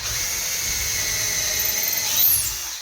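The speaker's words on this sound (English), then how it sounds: "So now I'm just gonna drill my pilot hole." A power drill bores a pilot hole while a Rubbermaid closet organizing system is installed, a steady whining motor that rises then drops in pitch as it winds down near the end.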